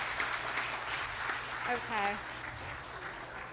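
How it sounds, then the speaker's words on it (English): Applause from a gathered audience at a Sunday religious program, a steady wash of clapping running throughout, with a voice briefly speaking over it midway. "So one more round of applause, please."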